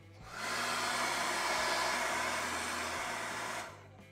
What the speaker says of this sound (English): you're gonna wanna take a blow dryer